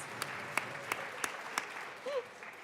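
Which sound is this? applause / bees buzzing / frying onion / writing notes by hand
applause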